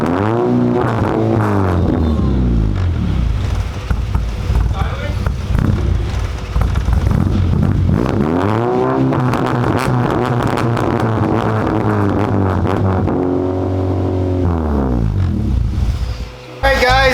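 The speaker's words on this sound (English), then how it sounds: "As you can see, the car is idling. It's idling a little bit nasty right now" Honda Civic EK with a custom-built exhaust, idling loud and close with a rough, uneven burble and a few swells of revving, with people talking over it.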